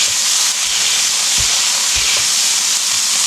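Smash burger patties and onions sizzle on a hot griddle, a steady, loud, bright hiss that runs unbroken throughout with no talking.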